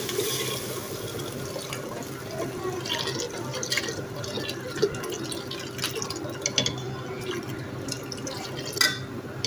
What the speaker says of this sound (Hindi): अब इसमें जो पानी हमने जो छान के रखा था वो पानी डाल देंगे।